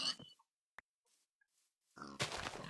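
A pig in a video game grunts a few times, faint and brief at first, then a louder rough burst near the end.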